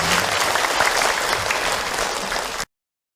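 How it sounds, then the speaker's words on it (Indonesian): Steady applause from a crowd at an Islamic lecture, dense and even, lasting a few seconds before cutting off abruptly. "tepuk tangan atuh buat kita semua"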